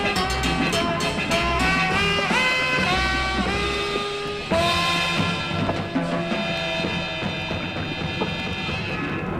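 Spliced tape notes follow one another in a quick rhythmic sequence of boing-like plucked tones, then a longer reversed note that swells into a wah sound, all heard alone without talk.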